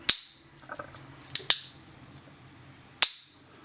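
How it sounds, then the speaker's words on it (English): An EKOL Arda 8mm P.A.K. blank revolver fires a few sharp, cracking reports, with two in quick succession and another after a pause. Faint mechanical clicks fall between the shots, and no voices are heard. "to actually shoot this gun, you need to pre-cock it each time and then fire it"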